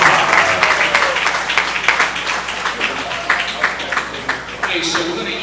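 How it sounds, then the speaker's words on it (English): Applause from a crowd of diners at a welcome dinner for a baseball showcase team, a dense steady patter of clapping over a noisy room, with a voice speaking over it at the start. "another round of applause for head coach Joey Chara"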